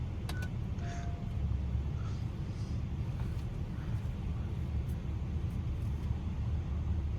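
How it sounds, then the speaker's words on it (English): Cabin of a 2019 Acura MDX A-Spec SH-AWD on the move, a continuous low rumble of road and tyre noise with a few faint clicks and chimes over it. "let's go for a ride in the 2019 Acura MDX A-Spec"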